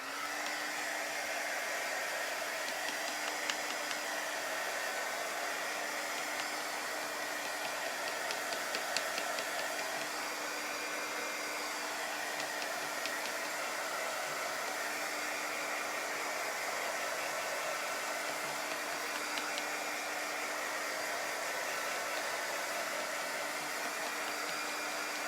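A heat tool blows a steady, unbroken hiss close by, drying shimmer paste on a chalk-decorated wreath, with no talk over it.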